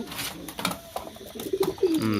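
Pet pigeons cooing in a home loft, a few soft, low rolling coos rising near the end over a busy background with faint voices.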